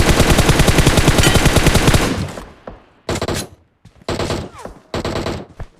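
Gunfire in the battle game BGMI: two seconds of loud rapid automatic bursts, then a quieter tail and three more short clipped bursts separated by brief pauses, close and without speech.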